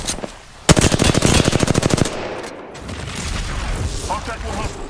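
A rapid burst of automatic gunfire in an Apex Legends match rattles loud and close for over a second, then fades into quieter battle noise and distant shots.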